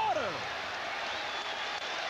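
A basketball arena crowd roars after Vince Carter blocks LeBron James in a Cavaliers game. The dense, steady crowd noise fills the space, with a brief falling whistle at the start.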